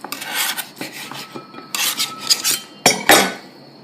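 A knife saws through a cooked medium steak. Close, rasping strokes come in several separate bursts, with short pauses between cuts. No voices.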